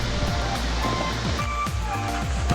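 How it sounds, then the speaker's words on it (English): A small waterfall on a jungle hiking trail pours steadily, a continuous broadband rush of falling water heard up close, filling the whole clip without pause. "Nice little waterfall on the trail."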